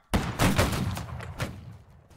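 Musket line volley fire in the video game Men of War: a sharp burst of many near-simultaneous shots rings out, followed by a ragged scatter of further musket cracks decaying over about two seconds, loud and close with no talk.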